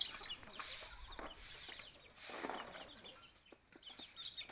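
Red junglefowl cluck softly in a natural outdoor setting, with several short clucks and faint rustling spread over a few seconds at moderate distance.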